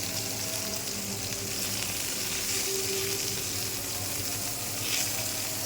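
Cauliflower and potato pieces frying in a pan with turmeric and salt, a dense, even sizzle and hiss held close and steady for the whole stretch, with no voices.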